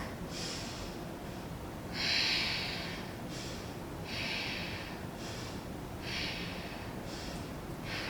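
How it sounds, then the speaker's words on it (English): Slow, deep yoga breaths during a Kundalini class, soft airy inhales and exhales recurring every couple of seconds, close and fairly quiet with no talking. "Inhaling forward, exhaling back"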